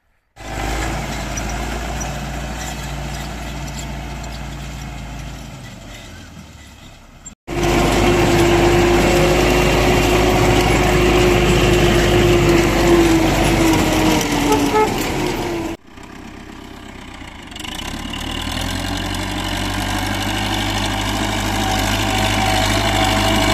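An MTZ tractor pulling a KPSh-3 cultivator across a field being prepared for wheat, its engine droning loudly and steadily with abrupt changes in tone as the recording cuts between sections.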